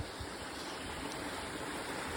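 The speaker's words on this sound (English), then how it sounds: "Along the waterfall." A garden waterfall rushes steadily, a broad, even hiss of falling water heard up close and alone, with no voices over it.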